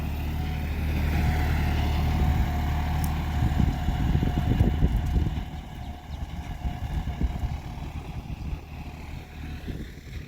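A John Deere tractor moves in first D gear, its diesel engine a steady low rumble close by with rattling mechanical clatter building in the middle, then settling to a lighter chugging.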